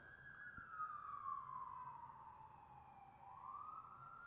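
A police car siren wails in long rising and falling sweeps, fairly far off and faint, passing through a Los Angeles street with low city rumble beneath.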